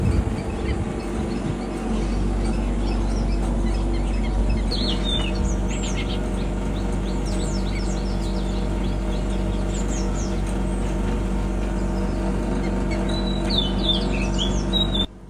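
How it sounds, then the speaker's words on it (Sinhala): Morning birdsong in a natural setting near a treehouse in Wirawila gives scattered chirps and short whistles at a distance over a steady low hum and insect-like drone. "මේක බලන්න නැචරල් සවුන්ඩ් එකේ කුරුල්ලන්ගේ සද්දේ වෙනම එකක්."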